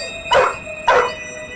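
Two sharp dog barks about half a second apart, fairly close and loud, over a faint steady background hum.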